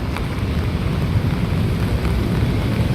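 Steady rain falls on an Ortigas street, a constant dense hiss with low rumble, loud and close, with no voices.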